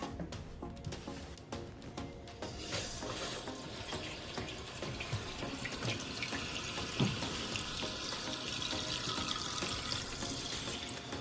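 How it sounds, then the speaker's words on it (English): Water rushes steadily into a newly installed toilet tank after the supply line is reopened, a continuous loud filling hiss with faint clicks at the start and no talking. "now we can turn the water back on"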